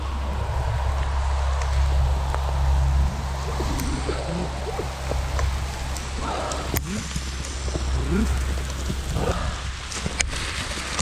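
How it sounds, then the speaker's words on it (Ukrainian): Rain falls steadily with a broad hiss and scattered drip-like ticks, a low hum running underneath throughout. "Ох, це дощик пустився."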